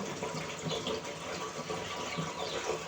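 Water runs steadily from a tap over taro leaves being washed, making a soft, continuous splashing gush at moderate distance with faint handling sounds.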